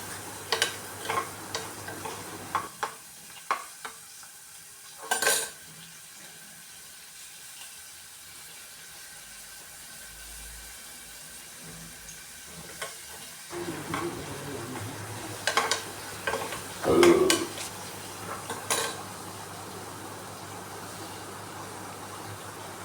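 Broken wheat (sooji) roasting in a pan for upma, with intermittent scraping stir strokes and a low sizzle, a quiet pause in the middle, then livelier stirring clatter toward the end.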